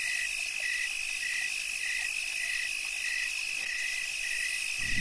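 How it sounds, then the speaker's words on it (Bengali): Crickets chirp on a village road at night in a steady, high trilling drone with regular pulsing repeats, and faint frog-like croaks sit underneath in an otherwise quiet scene. "চারিদিকে ঝিঝি পোকার ডাক"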